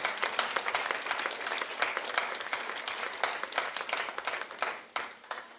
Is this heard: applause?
yes